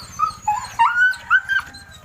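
Several dogs whimper, whine and yip excitedly in a quick run of high, rising cries over a low steady rumble, close and fairly loud as their owner arrives home.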